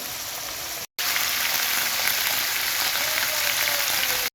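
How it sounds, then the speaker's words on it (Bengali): Spice-marinated chicken pieces fry in oil with a close, steady crackling sizzle, briefly cut near the start and then running on evenly with no talk. "চিকেনগুলো আগে ভেজে নিচ্ছি"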